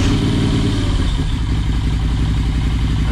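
A Moto Guzzi V7 Stornello motorcycle engine runs close by, a loud, steady, throbbing idle with a rhythmic mechanical chug and clatter.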